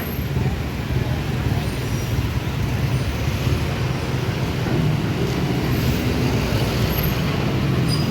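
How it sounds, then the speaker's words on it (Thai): Heavy, congested traffic on Charoen Krung Road in Bangkok near the Suea Pa intersection, a steady dense rumble of cars and buses with occasional brake hiss, continuous and fairly loud with faint voices mixed in. "แต่รถมันติดไปหน่อยนะครับรถติดมาก"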